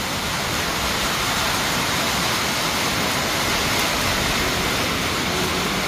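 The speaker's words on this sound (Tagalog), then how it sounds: "napakalakas ng ulan" Heavy rain pours down in Sta. Ana, Cagayan, heard from indoors as a loud, unbroken hiss and roar with no pauses and no speech.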